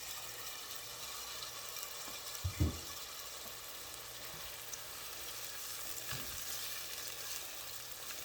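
Garlic and cabbage greens frying in a pan for Southern fried cabbage, a steady soft sizzle with a couple of brief stirring clatters, quiet and continuous without speech.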